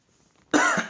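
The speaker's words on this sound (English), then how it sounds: "Sorry, guys, for the coughing." A person gives a single sharp, loud cough after a quiet pause, followed quickly by a brief second burst, close to the microphone.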